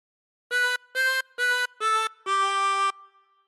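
Five sustained harmonica notes from We Wish You a Merry Christmas, four short ones in an even rhythm and a longer held final note, played alone and close.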